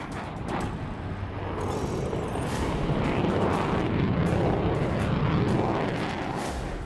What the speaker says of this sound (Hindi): यूपी के गंगा एक्सप्रेसवे पर दमखम दिखाते भारत के ये जंगी विमान